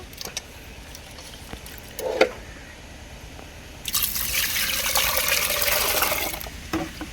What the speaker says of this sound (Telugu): ఉప్పు వేసి మనం కడుక్కోవాలి 2 సార్లు